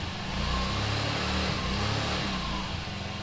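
A golf cart engine runs steadily and close, a continuous loud mechanical drone with a slight rise in revs and no talking over it.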